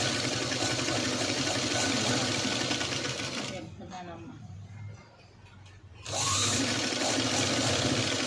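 A sewing machine stitches along a marked line on fabric for a boat neck garment, whirring steadily, stopping for about two seconds, then starting again, with a voice talking over it.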